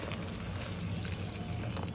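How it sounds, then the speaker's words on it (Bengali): Water poured into a cooking pot of spiced, mashed bananas with turmeric and salt, a steady close splashing fill running without a break, no talk over it. "এটা সেদ্ধ করে নেওয়ার জন্য পানি দিয়ে দেবো।"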